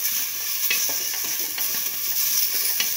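Tomatoes sautéing with salt in a pan give a steady bright sizzle, broken by soft scraping stirs every half second or so, close and continuous with no voices.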